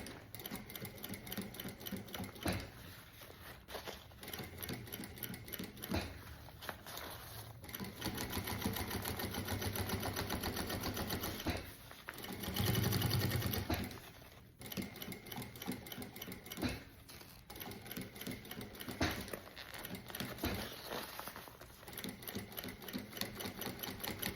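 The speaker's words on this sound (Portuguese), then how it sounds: "se eu fizer essa costura com esse um pé de máquina, não vou passar em cima do vivo e vou tá fixando o viés também" A sewing machine stitches bias binding onto a small case, with the presser foot guiding the seam alongside the piping. Runs of steady, close mechanical whirring fill most of the stretch, separated by brief pauses and one louder surge near the middle. No one speaks.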